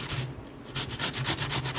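Cucumber being grated on a fine, narrow grater for raita, heard as a few close scraping strokes that come in short rhythmic bursts after a brief pause, with no talking.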